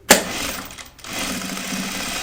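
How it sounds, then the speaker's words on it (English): A sewing machine stitches down wallet pockets with a fast, steady mechanical whir. It pauses briefly, then resumes, loud and close with no talk. "All right, now you're gonna just stitch them all down."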